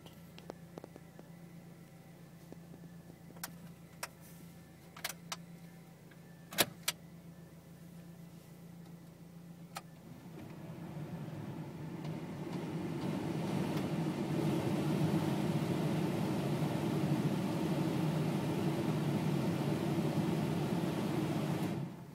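An Audi TT sits idling at high RPM after a cold start: a few sharp clicks sound over a low hum, then a steady engine drone swells and holds, fairly quiet and close.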